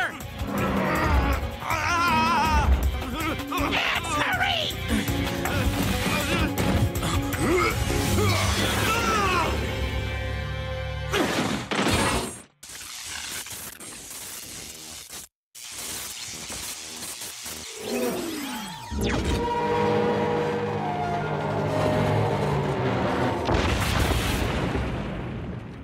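A generator in Mega Man X being shot and blown apart, with repeated booming blasts, crashes and bursts over a loud game soundtrack, then a short dropout before more explosions.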